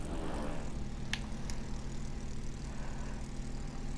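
Airplane in the video game It Takes Two, a steady droning engine hum with a low propeller-like rumble holding constant throughout, fairly loud and alone apart from a couple of brief bright clicks.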